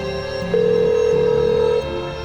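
Phone ringback tone while placing a call, a steady sustained electronic tone that swells louder mid-clip before easing back, with no voices present.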